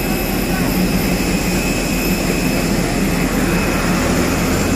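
Jet airplane engine roaring steadily at Hasanuddin Airport, a loud, continuous broadband rush with a high whine, close by and unbroken throughout, with a hint of voices mixed in.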